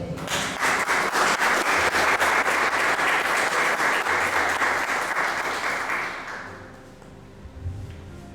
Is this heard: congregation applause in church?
yes